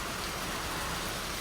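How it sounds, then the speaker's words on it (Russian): A brief, steady hiss of heavy rain falling, dense and even throughout, with no talking. "Хороший дождь."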